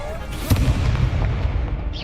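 Expelliarmus spell cast in Hogwarts Legacy gives a sudden burst at about half a second, followed by rumbling, crackling magical effects over a steady game backdrop, with no voices in the moment.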